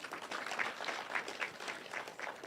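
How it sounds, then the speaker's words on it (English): Applause from an audience at a Kenya National Examinations Council event, honouring the MC; a steady, moderately distant wash of clapping that continues evenly throughout without any voices. "Let's clap again for our MC."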